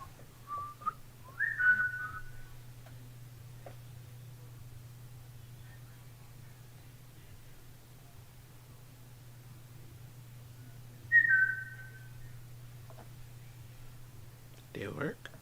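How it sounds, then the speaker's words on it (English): A person whistles two short rising notes, spaced several seconds apart, over a steady low hum in a quiet room, faint and somewhat distant, with a brief rustle at the end. "I'm gonna whistle. Maybe you can whistle back."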